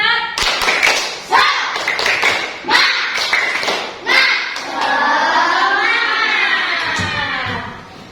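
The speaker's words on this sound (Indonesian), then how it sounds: "kita tepuk semangat terlebih dahulu. Tepuk semangat." Classroom of children doing a rhythmic 'tepuk semangat' cheer clap, with patterned bursts of hand claps and taps during the first half, then children's voices chanting and talking loudly over the rest.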